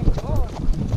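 Horse hooves clip-clopping during a ride, a quick uneven patter close by, mixed under people talking and general outdoor bustle.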